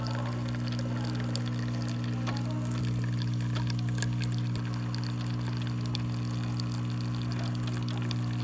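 A Gaggia Infuser espresso machine, freshly serviced after a full tune-up, pulls a test shot, giving a steady pump hum with a low mechanical drone and a faint trickle of liquid throughout.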